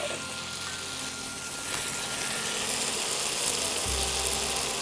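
Okra masala with onions in a hot pan hisses into a loud, steady sizzle after a small splash of water, a broad close crackle with a low hum and clatter underneath.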